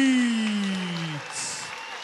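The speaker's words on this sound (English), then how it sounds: "Would you please continue a warm applause for a gallant opponent from Siam Camp Oldham, Brad Tunacliffe." Warm applause from a boxing crowd at ringside in Sheffield, following an announcement for a gallant opponent from Siam Camp Oldham, steady and fairly loud, with a voice sounding over it at the start.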